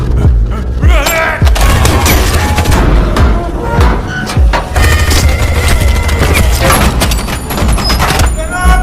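Police gunfire from the horror film V/H/S/94, rapid loud bursts and booming shots layered with dense soundtrack noise and thumps, with a voice talking over it throughout.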